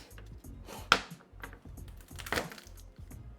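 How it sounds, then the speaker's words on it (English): Garlic cloves are smashed one by one while cooking spicy beef noodle soup: two sharp, close knocks about a second and a half apart, with quieter kitchen clatter between them and no talking. "I'm going to go ahead and just set down each of my garlic cloves and give them a nice little smash"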